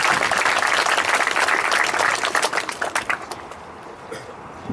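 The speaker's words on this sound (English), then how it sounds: "A round of applause for Ashley, please" Applause from an audience at a high school awards night, a full burst of clapping that loosens into scattered claps and fades out over a few seconds.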